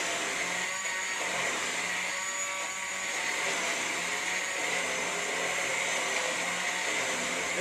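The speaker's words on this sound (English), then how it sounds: "what I have is an immersion blender" An immersion blender grinds meatball spaghetti sauce smooth, a steady loud whirring motor drone that holds continuously throughout with slight shifts in load.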